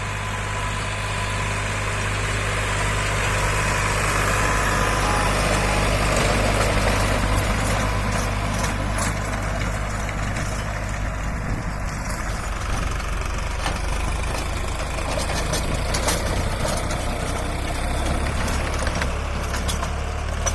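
Tractor pulling a rotavator through a soybean field in Tilhara tehsil, its engine rumbling steadily and close for the whole stretch with vibration and faint rattles, no voices.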